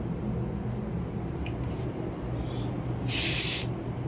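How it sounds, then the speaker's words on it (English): A Pro Xp electrostatic paint spray gun set to a flat pattern releases a steady, loud hiss of spray that holds evenly throughout, with a brief sharper burst of air near the end. "I'm going to do a quick pattern spray"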